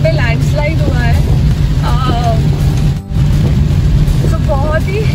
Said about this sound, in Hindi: सो बहुत ही हैवी रेनफॉल चल रहा है.